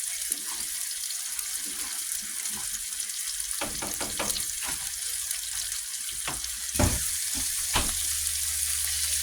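Patties fry in a nonstick pan with a steady close sizzle, broken by a few louder clatters and scrapes as the pan is jiggled and the food is moved.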